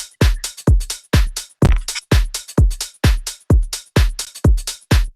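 Programmed electronic drum groove: a booming kick drum serving as bass, layered with hi-hats and claps, hitting in a steady, punchy repeating pattern, loud and alone with no voices.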